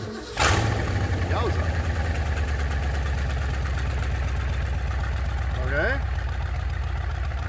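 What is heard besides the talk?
Munsters Drag-U-La coffin car engine starting and idling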